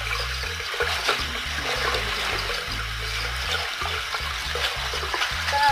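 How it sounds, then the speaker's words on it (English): Running water pours steadily over aquarium gravel being rinsed for a betta fish tank, a continuous close splashing and trickling wash with no pauses. "what we're going to do is we're just going to rinse it off right here"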